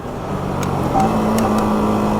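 A 2020 Yamaha MT15 BS6 motorcycle engine drones loudly and close while downshifting, the tone swelling about halfway through and then holding steady.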